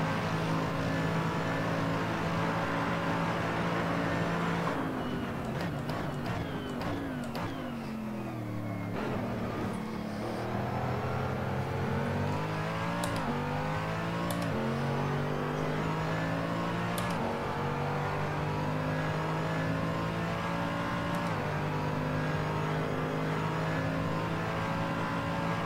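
Mercedes-AMG GT3 race car engine in Assetto Corsa, revving hard through repeated upshifts and downshifts with sharp pitch sweeps, loud and steady throughout a lap.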